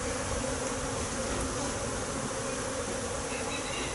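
A crowd of honeybees hums loudly and continuously around a brood frame lifted from a hive while a split is made. The buzzing is close and even, with no speech.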